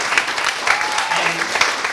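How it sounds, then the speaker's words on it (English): A community meeting audience claps for a youth organization member, a moderately loud wash of applause with a few more pronounced claps, while a voice talks faintly beneath it. "So let's give her a round of applause"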